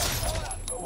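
Rapid burst of gunfire in the Caldara battle royale video game, a quick fusillade of several close shots heard over faint background game sound.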